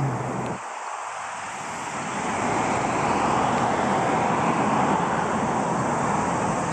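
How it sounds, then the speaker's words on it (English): Road traffic passes outside a house in a steady, continuous roar of cars that swells slightly and holds, moderately loud and unbroken, with no one speaking. "the traffic in the background is a pain"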